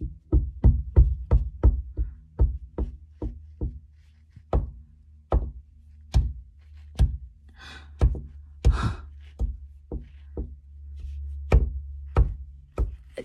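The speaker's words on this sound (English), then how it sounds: "it feels like it's knocking to this side" Sharp, hollow knocks on a wall inside a home laundry room: about twenty raps, quick and regular at first, then spaced out and irregular, with a breathy gasp partway through.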